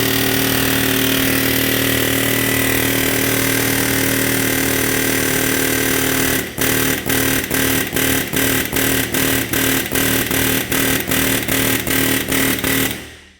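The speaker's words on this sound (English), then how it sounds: "I got an air chisel with a long pointed punch on there" Air chisel fitted with a long pointed punch hammers a wheel bearing bolt on a 2017 Ram 1500 4x4 front hub: a loud steady buzzing run, then a rapid series of about a dozen sharp, evenly spaced impacts up close.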